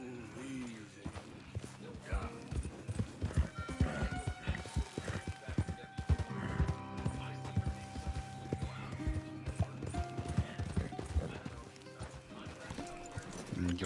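Steady clip-clop of horse hooves on hard ground in the video game Red Dead Redemption 2, with a neigh and a voice talking over it.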